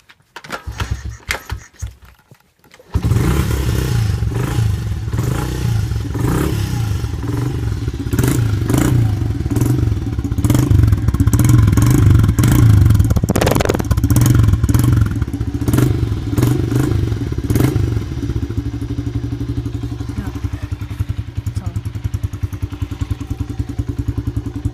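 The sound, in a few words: dirt bike engine kick-started and revving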